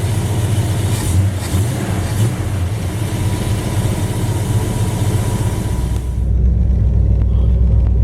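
A Plymouth Duster with a 318 V8 fitted with headers idles loudly and steadily with a deep, lumpy rumble, heard up close under the hood with no talk.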